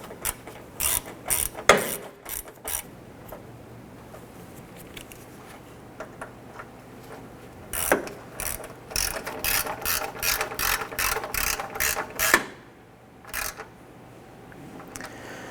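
Hand ratchet driving headlight screws on a 1997-2006 Jeep Wrangler, rapid clicking runs in several bursts with short pauses between, close and clear with no talk.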